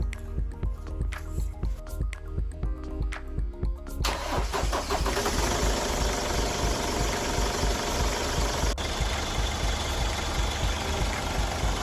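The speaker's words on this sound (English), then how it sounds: "We're going to check the dipstick and we're going to start the vehicle." A Ford Ranger 3.0 TDCi diesel cranks with a few clicks, then fires and settles into a steady, loud, clattering idle close by.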